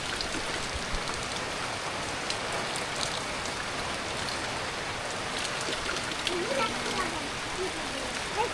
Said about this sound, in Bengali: ওই যে দেখো কতটা বৃষ্টি হয়ে লাগছে